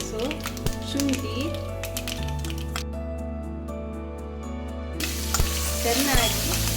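Chopped green chilies and ginger go into hot oil in a pan after tempering spices have spluttered, producing a steady close sizzle with stirring beneath a continuous tonal background.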